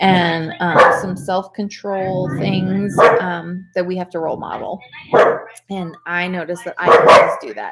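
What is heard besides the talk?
dog barking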